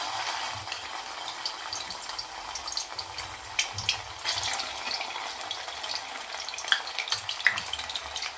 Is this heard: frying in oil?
yes